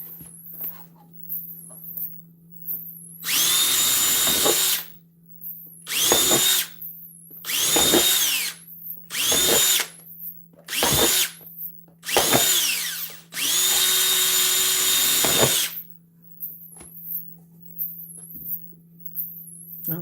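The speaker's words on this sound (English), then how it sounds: "I'm not great with a drill, but I'm going to put some holes in here." A power drill whirs in a series of bursts, some long and some short, with quiet pauses and a steady low hum between them.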